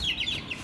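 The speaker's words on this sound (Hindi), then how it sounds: "मुर्गी चिल्लाती रहती है पूरे टाइम।" Aseel hen clucking in a short, close burst of cackling calls over low background rumble.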